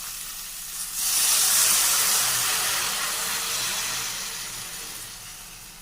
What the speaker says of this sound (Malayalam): ഇതിലോട്ട് കുറച്ച് വെള്ളം ഒഴിച്ച് കത്തിരിക്ക വേഗം നേരം അടച്ചു വെച്ച് വേവിക്കാം